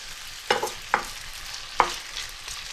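Cubed potatoes frying for Punjabi achari aloo, with a soft oil sizzle under a few sharp scraping stirs in the pan, three distinct strokes about half a second to a second apart.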